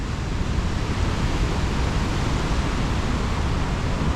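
Ocean swell running up onto rocks along an Australian coastline, a continuous broad roar of surging water, loud and unbroken with no distinct individual breaks.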